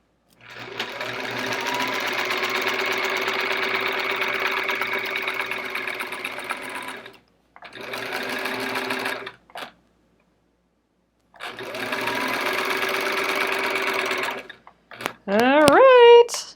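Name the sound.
sewing machine stitching a quilt in the ditch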